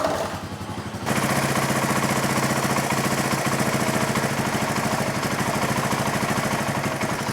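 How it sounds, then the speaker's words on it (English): A small petrol engine with a faulty cheap carburetor starts up and idles steadily and loudly at close range, its rapid firing pulses continuous throughout with no talk. "You can hear the idle RPM increase as it starts to lean out without having gas."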